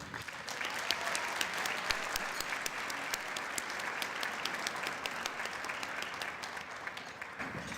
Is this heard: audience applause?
yes